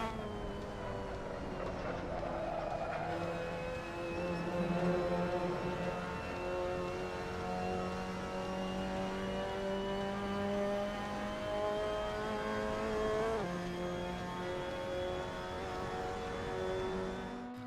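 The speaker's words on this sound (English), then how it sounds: "So that was a lap around Sebring with the Mazda MX-5 Cup" A Mazda MX-5 Cup car laps Sebring in Assetto Corsa, its engine droning continuously from the cockpit view, pitch climbing through the gears with sharp drops at upshifts and sustained high revs in between, fairly quiet and with no talking.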